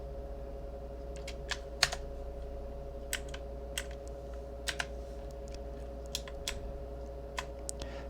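Computer keyboard typing on a file server setup, scattered sharp key clicks in irregular bursts over a steady electrical hum, close and fairly quiet, with no talking.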